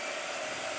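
A handheld blow dryer runs close and loud in a steady, unbroken whoosh and whine, with no talk.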